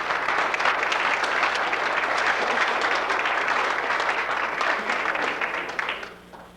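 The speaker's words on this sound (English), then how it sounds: "Let's hear it for Joe Scowcroft." A banquet crowd applauds an honoree at the Easton Jr Hockey League 25th anniversary dinner in 1983. The clapping is dense and steady, continuous for about six seconds before tapering off at the end.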